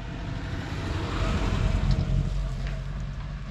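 A Fiat 126p cabrio engine with a new exhaust runs steadily while the car drives, giving a continuous low rumble with wind and road noise that swells slightly in the middle.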